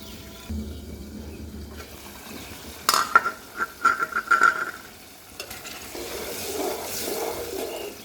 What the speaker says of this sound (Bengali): এখন শিং মাছটা দিয়ে দিব এটার মধ্যে দিয়ে কষাবো ভালো করে